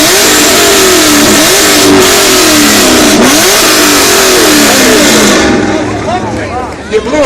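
A Camaro engine revs hard at a 2013 car show in Richmond, BC, with loud, close, sustained rising and falling revs that ease off near the end.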